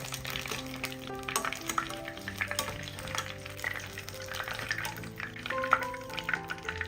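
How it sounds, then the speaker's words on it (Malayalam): Egg-stuffed snacks deep-frying in hot oil, a continuous bubbling sizzle with occasional crackles, heard under steady background music. "ഇപ്പം നമ്മുടെ പലഹാരമെല്ലാം ഇവിടെ ഫ്രൈ ചെയ്തെടുത്തിട്ടുണ്ട്."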